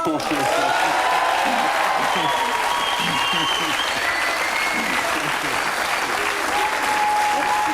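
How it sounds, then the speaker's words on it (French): Studio audience on a French TV show applauds steadily, a dense, even wash of clapping that stays loud for the whole stretch, with faint voices and cheers mixed in. "Et rien que pour ça, j'ai vraiment mérité des applaudissements."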